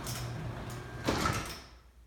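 Belt drive garage door opener running a door: a faint, steady mechanical hum with a soft rolling rumble and one slightly louder clunk midway, fading out at the end.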